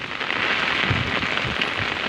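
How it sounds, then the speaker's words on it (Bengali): Heavy rain pours steadily while strong wind blows through a mango tree, making a dense, continuous hiss with low gusty rumbles and no talk. "দেখেন ওই যে আম গাছে কেমন মাঝে মাঝে অনেক বাতাস হইতেছে, অনেক বাতাস, অনেক বৃষ্টি"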